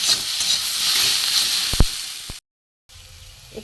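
Ground cumin, coriander, pepper and garam masala fry in a pan for a green pea curry, giving a hissing sizzle with a couple of sharp knocks before a brief total silence and a quieter return.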